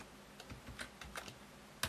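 A computer keyboard being typed on to enter a filename, a quiet string of light, irregular key clicks ending in one sharper tap, with no voices.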